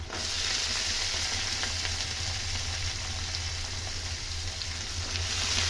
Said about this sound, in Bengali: আলু দেওয়ার পরে আমি কুচিয়ে রাখা এখানে গাজর দিয়ে দিচ্ছি